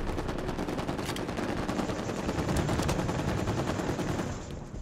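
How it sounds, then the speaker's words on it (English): Chain guns fire in a video game as rapid, continuous bursts of close, loud gunfire that trail off near the end, with no talk over them. "The chain guns."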